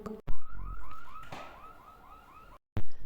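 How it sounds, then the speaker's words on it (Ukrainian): A car alarm whoops in a steady repeating rising tone at a moderate distance, with a couple of louder thumps at the start and end. "Так, десь спрацювала сигналізація."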